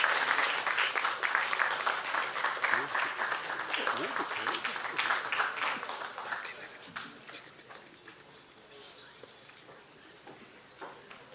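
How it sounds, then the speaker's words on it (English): Sustained audience applause at a law faculty valedictory ceremony at a university, a full wash of clapping for about six seconds that thins into a quieter tail. "keep the applause going."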